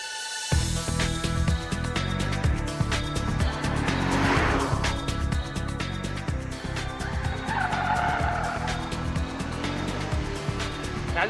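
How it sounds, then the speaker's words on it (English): An Audi A4 quattro with four-wheel drive is pushed hard through corners, its engine droning steadily as the tyres squeal and scrub, loud and close, for the full stretch. "You can really push her hard round corners, and she grips very well"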